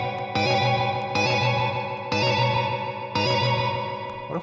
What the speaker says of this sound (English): And let's listen while pitch shifting this last one.